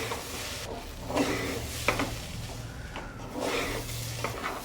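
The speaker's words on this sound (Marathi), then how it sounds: "तांदूळ की नाही छानपैकी भाजून घ्यायचं" Rice is dry-roasted in a pan with asafoetida, turmeric and chilli powder, giving a soft, continuous sizzle with scraping stirs and a few light clinks of the spoon against the pan, heard up close.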